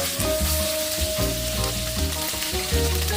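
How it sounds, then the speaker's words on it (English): Pork ribs sizzle loudly in hot oil as they are stir-fried with dry red chili, bay leaves and aromatic spices. A continuous crackling hiss runs throughout, with repeated scraping stir strokes against the pan. "stir all these aromatic spices together with the ribs for about 2 to 3 minutes"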